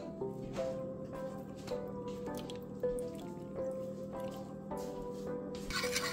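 Lemon juice squeezed by hand and dripping into a home-cooked dish, with a steady series of small, close drips and squishy liquid taps over a soft kitchen background, no talking.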